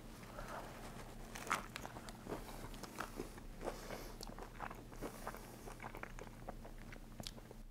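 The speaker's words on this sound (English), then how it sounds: "here's my real reaction to trying Doritos Locos tacos for the first time" Soft crunchy bites and chewing of a Doritos Locos taco, close and quiet, with repeated crackly crunches spread across a low steady background hum.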